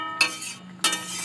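A spoon stirs doi katla, a fish curry of katla fish in liquid, in a pan. Two sharp scraping, clinking strokes come in quick succession, with quieter sizzling between them.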